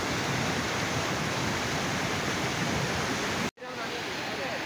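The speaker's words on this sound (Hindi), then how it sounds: "ये सारा बर्फ़ का पानी है आबशार का" A waterfall of snowmelt water pours at Lake Lulusar, a steady, loud, broadband rush that continues without letup and then cuts out for a moment before it resumes.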